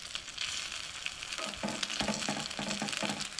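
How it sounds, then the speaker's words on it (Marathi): Kingfish coated in rava fries in a pan with a steady broadband sizzle, joined midway by a few soft clunks as the pieces are turned. "आतां बरी फ्राय करून घेवया ती परतून"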